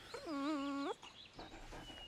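A dog gives a single drawn-out, high whimpering whine lasting under a second, close and clear, followed by quiet outdoor ambience.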